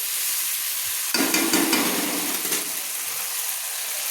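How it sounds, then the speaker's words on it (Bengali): Cabbage and prawns with salt are stirred in a frying pan, a sudden burst of sizzling that starts abruptly and carries on steadily with faint scraping of the utensil. "দেখুন আমি 1 চামচ লবণ আমি দিয়ে দিলাম, দিয়ে ভালো করে একটু নেড়ে নিচ্ছি।"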